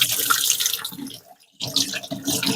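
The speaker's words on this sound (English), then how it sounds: "just run through with the warm to hot water, work it in with your fingers" A polishing pad is rinsed under running warm to hot water at a sink, a close splashing rush that briefly cuts out mid-way before resuming, with no speech.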